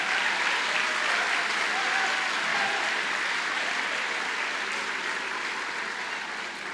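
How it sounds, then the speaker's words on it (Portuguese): Sustained applause from a church conference audience, steady and dense throughout, with no clear pauses. "Dá uma salva de palmas aí para eles aí."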